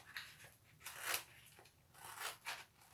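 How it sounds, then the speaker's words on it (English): Sharp scissors cut through board in a quiet room, giving a few soft crunching snips in irregular bursts, close but faint. "Just a sharp scissors and you're away laughing."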